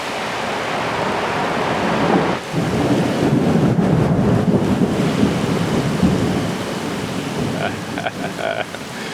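Thunderstorm on Jeju Island with steady heavy rain and a loud, rolling rumble of thunder swelling through the middle, continuous and close throughout.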